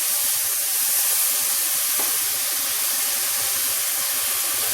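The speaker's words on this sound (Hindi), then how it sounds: "ये धीरे धीरे भूनता रहेगा" Chopped tomato frying slowly in a pan for a special khichdi, a steady, close sizzle and hiss with no one talking.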